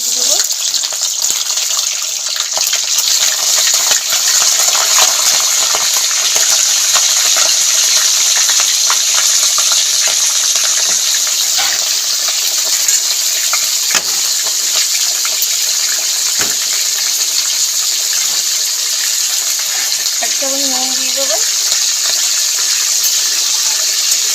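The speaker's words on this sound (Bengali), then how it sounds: "তেল গরম হয়ে গেছে এবার আমি তেলে রেখেছি চিকেনগুলোকে" Chicken pieces fry in hot oil in a kadai, producing a loud, unbroken, close sizzle that holds steady throughout, with a brief faint voice-like sound late on.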